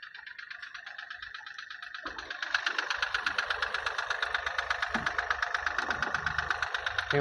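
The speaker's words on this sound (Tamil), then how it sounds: "வண்டியோட இன்ஜின் நாய்ஸ் பாருங்கள் எப்படி இருக்குங்க" A Mahindra TUV300 T8 SUV diesel engine idles with a steady, rapid ticking knock, close and fairly quiet, running alone without talk.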